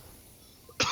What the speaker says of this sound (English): I did not mean to cough in your ear